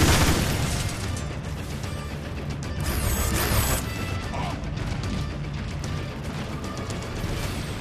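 Repeated rocket blasts and crashing impacts in Transformers: War for Cybertron, loud bursts with mechanical clatter layered over constant battle noise, no talk heard.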